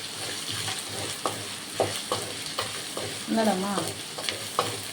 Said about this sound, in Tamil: தக்காளி பழத்தை போட்டு நல்லா வதக்கணும்.